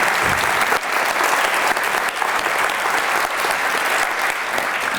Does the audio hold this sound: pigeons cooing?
no